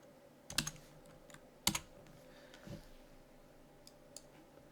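Keys tapped on a computer keyboard while typing a document, a few sparse, close clicks and a couple of heavier thumps over a quiet background, with no talk.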